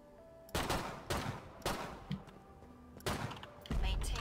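Assault rifle fire in Killing Floor 2 comes in several short, loud bursts separated by brief pauses, close and punchy, with voices faintly present.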